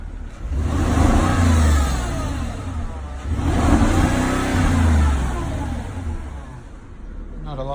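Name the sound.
Porsche engine revving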